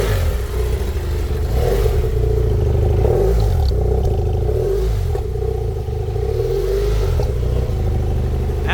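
A BMW F800GS 30th Anniversary Special motorcycle engine revs up and down several times, loud and close, with steady harmonic rises and falls over a constant idle rumble.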